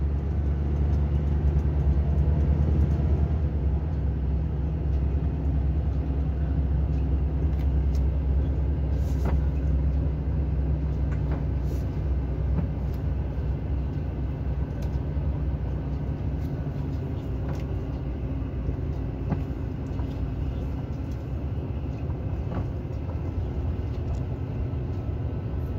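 A John Deere combine harvester drives along a road during the soybean harvest in Mato Grosso, giving a steady, loud low engine rumble that continues without a break, with no speech over it.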